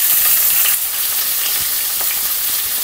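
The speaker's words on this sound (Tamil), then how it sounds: "வெங்காயம் சேர்த்துக்கலாம்" Onions frying in oil with fennel seeds, curry leaves and green chili for an egg curry, a loud steady close-up sizzle with faint stirring scrapes and no talk.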